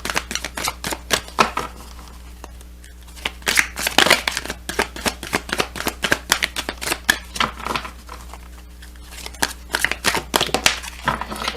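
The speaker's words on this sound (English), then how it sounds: "This has a huge relevancy when I use this deck." A tarot card deck being shuffled, giving dense runs of crisp card riffles and flicks that pause briefly around the middle, close and fairly loud with no talking.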